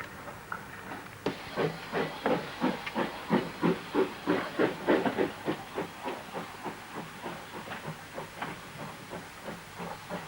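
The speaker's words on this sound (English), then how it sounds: "it is the West Country's last working industrial steam locomotive" An industrial steam locomotive, the West Country's last working one, hisses steam in a steady rhythmic series of loud chuffs that gradually fade and slow.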